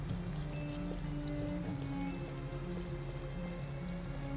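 Steady rain falls in the video game Detroit: Become Human at an abandoned house, a continuous even patter heard alone with faint tonal game ambience beneath.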